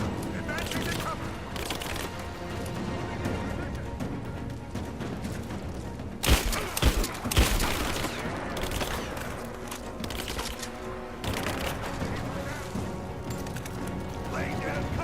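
Dense video game combat from Rise of the Tomb Raider: continuous gunfire and rumbling explosions, with a louder burst of crashing blasts midway, running throughout under layered game sound.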